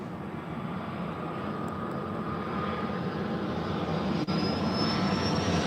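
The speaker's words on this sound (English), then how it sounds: "that is Flexjet" A Flexjet Gulfstream G450 business jet comes in to land at LAX, a steady, moderately loud jet whine with a rising high tone near the end, heard alone without speech.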